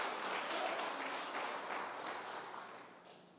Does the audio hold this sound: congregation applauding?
yes